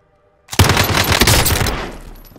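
Loud, rapid automatic gunfire from the Call of Duty Warzone Resurgence video game, a dense burst of shots about two seconds long that fades at the end, with no talking.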